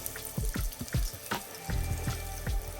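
Battered cod fillet fries in hot oil, giving a bubbling sizzle with a run of sharp crackles and pops close by, and no voices.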